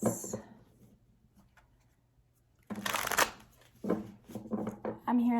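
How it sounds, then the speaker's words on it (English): Tarot cards being shuffled by hand in a few quick riffling bursts, near and fairly loud, separated by quiet pauses with a voice heard faintly at the start. "I'm going to shuffle 3 more times."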